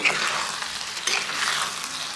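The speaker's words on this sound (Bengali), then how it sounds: "ঘি দিয়ে দিছি এবার হালকা নাড়িয়ে দিই" Rui fish head muri ghonto is stirred in a hot pan after ghee goes in, giving a steady sizzling fry with scraping stir sounds, close and alone.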